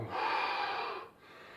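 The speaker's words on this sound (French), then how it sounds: "On est essoufflé, c'est normal." A single long, heavy out-breath after judo exercise, close and breathy, followed by a brief quieter pause.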